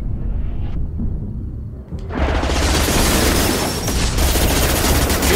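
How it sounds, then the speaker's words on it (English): Heavy automatic gunfire from the YMIR mech in Mass Effect 2, a dense, loud, continuous burst of machine gun fire with booming impacts, building to a sustained roar after a quieter opening, with no talking. "Machine guns do quite a hefty chunk of damage."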